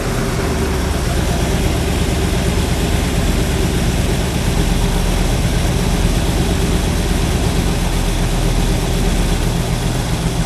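A stock small-block 327 V8 car engine runs at a steady idle, a loud, close, continuous low rumble with no pauses and no one speaking.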